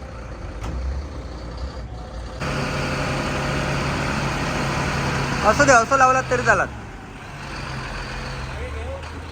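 Heavy trucks at a stone crusher pulled forward one at a time, a steady loud diesel engine rumble with air-brake hiss and a brief burst of clanking near the end, while people talk throughout.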